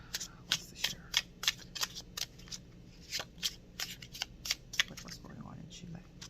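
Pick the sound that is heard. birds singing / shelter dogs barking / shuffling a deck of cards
shuffling a deck of cards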